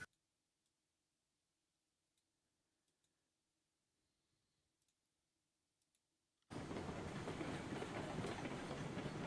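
Coupled locomotives running in the Railroads Online video game: near silence, then an abrupt loud, steady rumbling rush with rail clatter that fills the last third.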